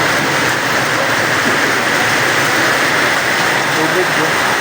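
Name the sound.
heavy rain pouring down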